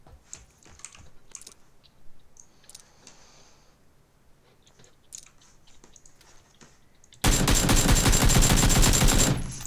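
AK rifle fire in a video game, a sudden sustained burst of loud rapid shots arriving after several quiet seconds of faint clicking and keyboard taps, close and dense until it cuts off near the end.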